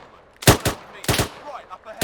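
Soldiers fire machine guns in the Arma 3 combat game, with two sharp bursts of automatic fire, each a quick pair of loud cracks, separated by a pause and followed by a fainter shot at the end.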